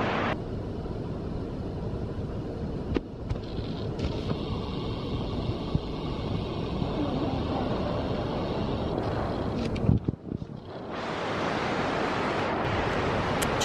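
Waterfalls pour down beside a temple built into a cliffside in Taiwan, a steady broadband roar of rushing water that fills the whole stretch, briefly dipping near the end before resuming at full strength.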